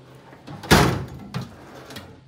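Drawer of a Harbor Freight US General Series 3 bottom tool box sliding open with one loud rolling clack, followed by a softer bump as it settles.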